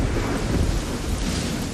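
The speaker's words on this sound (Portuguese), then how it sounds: "tempestades tropicais encharcam o istmo do Panamá." Tropical thunderstorm over the Isthmus of Panama, a dense roar of heavy rain beneath a deep, continuous rumble of thunder, loud and enveloping throughout.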